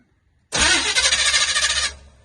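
A Chevrolet squarebody truck, powered by a jump pack, cranks with a loud, close, rapid pulsing starter churn that lasts about a second and a half and then cuts off without the engine catching.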